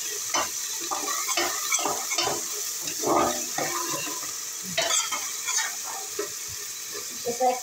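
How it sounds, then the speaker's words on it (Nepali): Onion, garlic and ginger sizzle in a hot pan for a fish curry, with steady frying hiss and repeated scrapes and clinks of a spoon stirring close by. "प्याज अलिकति भुटिसकेपछि मैले लसुन र अदुवा पनि एकैमा राख्छु"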